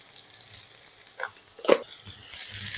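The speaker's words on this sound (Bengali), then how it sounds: "এরপর এগুলোকে আমি ভালো করে ভেজে নেব।" Chopped capsicum and mixed vegetables for fried rice sizzle softly in a pan with a little salt, a quiet hiss broken by a couple of brief stirring scrapes.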